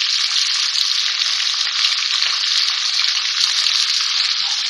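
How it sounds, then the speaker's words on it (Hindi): Whole spices, including opened green cardamom and black cardamom seeds, fry in hot oil in a karahi, giving a steady, dense, close sizzle that holds without a break and with no talk over it. "ये डाल के फ्राई करेंगे, थोड़ा सा खुशबू आ जाए ताकि अच्छी सी।"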